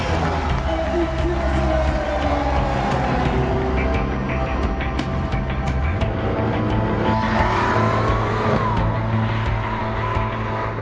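Race cars in Italy's Motor Valley, Emilia-Romagna, roar and rev continuously at close range, engine tones rising and shifting with a passing whine, a steady loud mechanical blend with faint voices mixed in.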